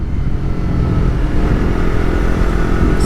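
A Kawasaki ZX6R motorcycle engine is heard on back roads, a loud, close, sustained engine roar with a steady pulsing rumble that holds through the whole stretch, with no talking.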